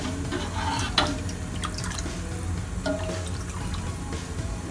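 Water poured into aloo bonda gravy in a pot, a continuous gurgling splash with small drips, steady and close throughout.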